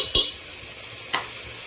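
Ginger-garlic paste cooking in a pan for a Bengali egg and potato curry, a faint sizzle under two sharp scrapes of a spoon stirring against the pan.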